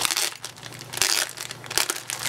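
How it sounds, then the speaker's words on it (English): Plastic packaging crinkling close up as a craft swap parcel is opened, a steady crackly rustle rising and falling over a couple of seconds. "Sorry for all the crinkling, guys."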